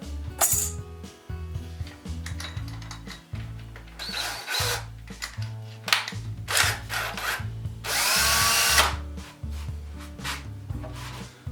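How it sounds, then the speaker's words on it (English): A power drill whirs in short bursts, plunging down through a wooden fixture with pauses between pushes and a sharper high-pitched screech near the end. "Now I just have to plunge this drill down through the fixture."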